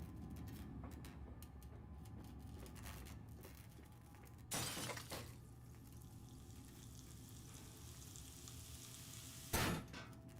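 A glass container breaking in the horror game Amnesia: A Machine for Pigs, two short bright shattering bursts several seconds apart over a low, steady sizzling ambience, with no speech.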